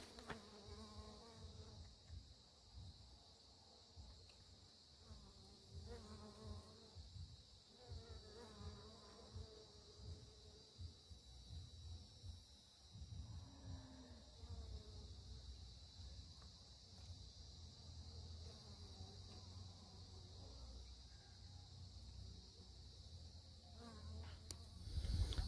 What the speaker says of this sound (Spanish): Mucha abeja, hay bastantes abejas de esas extranjeras que les dicen, recogiendo ya pues